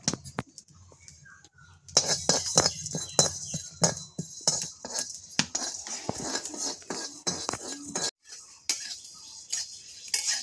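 Cumin, coriander and black pepper are dry roasted in a hot wok, giving faint, close scraping and clinking of a utensil stirring against the metal, with a soft crackle and irregular taps throughout.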